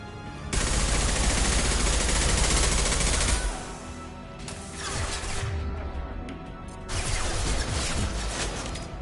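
Sniper rifle fire and battle noise in the video game Mass Effect 2, loud sustained bursts of gunfire with a brief lull between, then another heavy burst; no talking.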